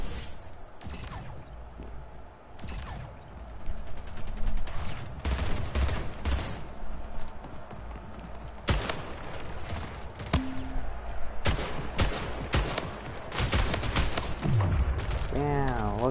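Gunfire in the Splitgate arena shooter: rapid bursts of automatic shots and sharp single cracks recur throughout, loud and close, with mechanical clicks and a player talking between volleys.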